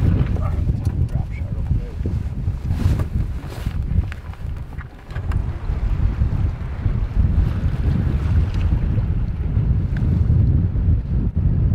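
Wind blows hard over open water during a bass fishing outing, a continuous buffeting roar with heavy gusts on the microphone and waves washing around a boat, loud and close throughout.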